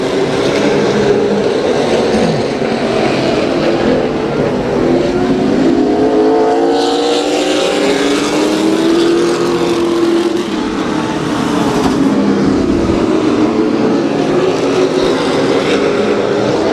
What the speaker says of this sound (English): Kelly Reiniger gets that number 12 back underway.